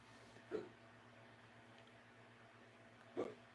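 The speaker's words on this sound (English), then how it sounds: "my brother's out there burping" Two short, faint burps from a person in another room, one early and one near the end, heard distantly over a quiet room hum.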